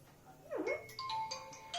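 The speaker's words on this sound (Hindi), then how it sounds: "ये फोन पता नहीं किसका आ गया" A mobile phone ringtone chimes a short rising-and-falling electronic melody, a few bright tonal notes sounding fairly quietly indoors in a classroom-like room.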